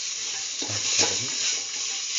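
Salt caramel bubbles and sizzles in a pan as a spoon stirs it, with a soft continuous hiss and a brief scraping swell near the middle.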